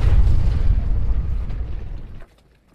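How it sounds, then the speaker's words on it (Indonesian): A loud explosion bursts above an apartment in a film, a dense low rumble that holds and slowly fades for about two seconds before cutting to near silence. "terdengar suara ledakan di atas apartemennya"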